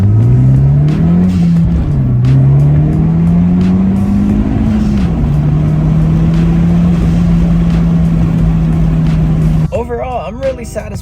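A 10th-gen Honda Civic Si with a PRL catless downpipe and front pipe drones loudly and steadily, its exhaust pitch rising and falling with the revs before cutting off near the end.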